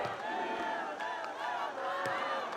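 Fans in the stands at a beach volleyball gold medal match chant in unison, a sustained rhythmic crowd chorus rising and falling, moderately distant and steady throughout.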